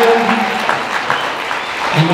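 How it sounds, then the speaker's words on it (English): A school audience at a middle school spring strings concert applauds, and the steady clapping fills the room throughout. "Please have a big round of applause."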